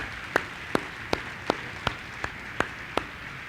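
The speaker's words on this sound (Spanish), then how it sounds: "Dale un aplauso al Señor esta mañana" Hands clap in a steady, evenly spaced rhythm during a church service, about nine sharp claps at a moderate pace, fairly close and with no talking over them.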